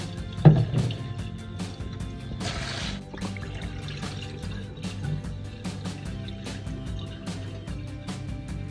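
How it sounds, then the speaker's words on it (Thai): Water being poured and swished while ingredients are rinsed in a kitchen, soft splashing and trickling with scattered clinks and drips, quiet and close, with no talk. "เราจะล้างให้น้ำเนี่ยใสเลยค่ะ ล้างไปสี่ห้าน้ำได้เลยนะคะ"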